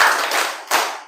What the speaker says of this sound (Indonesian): tepuk tangan tentunya ya, bukan tepuk pundak temen tapi tepuk tangan saja